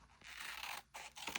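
Scissors snip through paper for a gluebook in three quick, close cuts, each a crisp rasping slice separated by short pauses, quiet and without talking.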